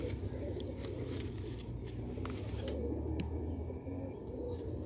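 Pigeons coo in low, soft, repeated calls under a steady background murmur, with a few faint chirps and brief rustles scattered through.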